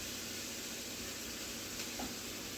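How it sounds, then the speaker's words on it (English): Ground meat seasoned with steak seasoning sizzles steadily as it browns in a pan over medium-high heat, a constant hissing fry with no voices. "while we got this browning, like I said, it's on medium high"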